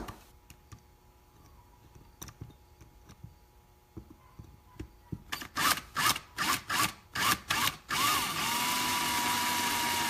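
A power drill runs in a series of short, loud bursts, drilling out fasteners while taking apart a DCP IH Lonestar, starting and stopping rhythmically, then holds a sustained whine, after quieter clicks and taps.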